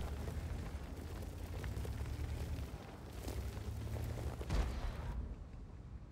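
A tank cannon fires in World of Tanks, a muffled boom rising out of a steady, low engine rumble before the sound cuts off.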